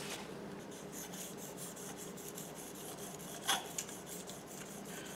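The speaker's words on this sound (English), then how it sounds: "I'll finish this up on the honing stone." A grafting knife blade is rubbed flat against a honing stone, rhythmic quiet scraping strokes repeating close by, with a couple of sharper scrapes near the end.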